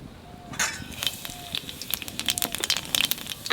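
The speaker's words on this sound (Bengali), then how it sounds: "তেলের উপর দিয়ে দেবো কটা কালো জিরে" Black nigella seeds dropped into hot oil for a festive Bengali dish sizzle and crackle, the spattering building from a soft start into denser bursts, close and fairly loud.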